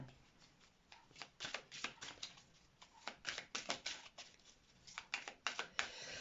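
Playing cards shuffled and riffled in a quiet room, a run of crisp, papery flicks and snaps in irregular bursts, close and fairly faint, with no one talking.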